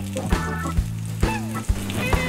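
Portobello mushrooms sizzling in olive oil in a pan, a steady close frying hiss with brief clicks and scrapes, and a low background hum throughout.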